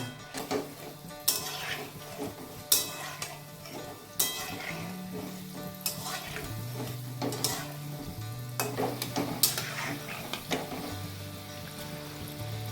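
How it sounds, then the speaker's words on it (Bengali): Jackfruit fritters sizzle in hot oil in a kadai over a low flame, a steady frying hiss broken by sharp scrapes and clinks as the pieces are stirred and turned. "যখন কাঁটালের বড়াগুলো ভাজা হচ্ছে কড়াই দেয়া হচ্ছে তেলের মধ্যে সেখান থেকে লো ফ্লেমে ভাজে"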